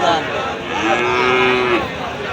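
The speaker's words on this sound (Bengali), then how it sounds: "গরু আছে, বহুত গরু আছে" A cow lets out a long, drawn-out moo that rises and holds before fading, with the murmur of a busy cattle market crowd at Panchbibi behind it.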